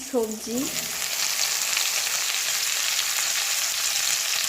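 Pea-pod vegetables sautéing in a pan, a continuous close sizzle from start to finish, with a brief voice at the very start.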